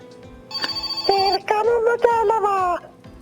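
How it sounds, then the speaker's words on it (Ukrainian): A phone rings inside the video game My Summer Car: a bright, electronic tonal ringtone in short melodic bursts of repeating pitched notes, fairly loud and clear over quiet game background. "О, дзвінок."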